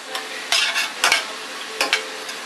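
Leeks softening in a pan over medium-low heat, a gentle steady sizzle broken by a few louder scraping stirs of a utensil against the pan, close and without talk.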